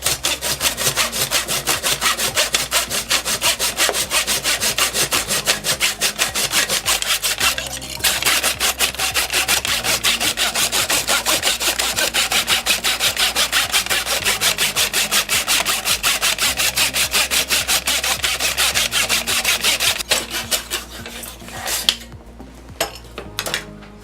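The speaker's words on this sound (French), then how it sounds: "Il n'est plus qu'à scier la pièce de bois." A piece of wood is hand sawn with a saw set in a guide, making steady, fast, rasping back-and-forth strokes, loud and close, that run continuously before slowing and stopping at the end.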